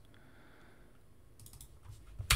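A computer keyboard is typed on briefly while an ipconfig command is entered in a network lab, a short faint patter of key clicks ending in one louder tap.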